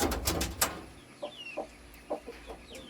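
A broody hen clucks near the coop, shortly before laying an egg. The soft clucks come in short, spaced bursts at moderate distance, with a brief higher call near the start.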